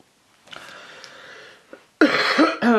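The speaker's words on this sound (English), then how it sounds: "I still have a cough" A person with a lingering cough coughs indoors, a few short, harsh bursts close to the mic, with a softer throaty sound just before.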